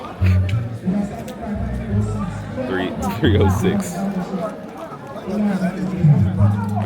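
A crowd of people chatters in a Nigerian village, several overlapping voices close by forming a loud, busy babble throughout.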